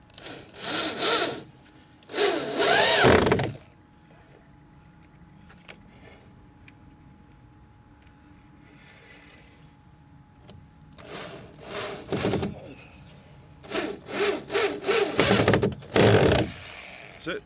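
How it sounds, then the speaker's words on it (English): A power drill drives screws into a steel fence post on an allotment, several short whirring bursts in two groups, close and loud, separated by quiet pauses. "So all you got to do is drill the top one in first and then bob the bottom on it."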